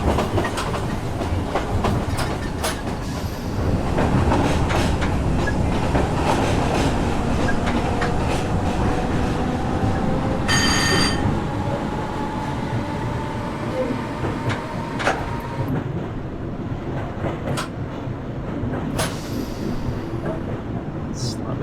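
A Class 313 electric train in the Open BVE train simulator rolls along steadily with rhythmic clickety-clack of wheels over rail joints, a rising motor whine, and occasional clunks, continuous throughout.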